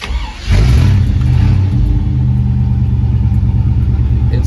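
A 1954 Chevy 3100 pickup with dual exhausts into a single dual muffler cranks and catches at about half a second, then settles into a loud, steady, close rumbling idle with light revs.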